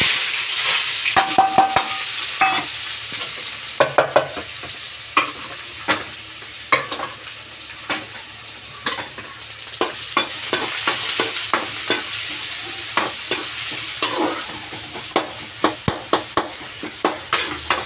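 Chopped onion and crushed garlic fry in hot oil in a pan for a lunch of drumstick and brinjal sambar, a steady close sizzle broken by frequent sharp scrapes and taps of a spatula stirring, with no talking.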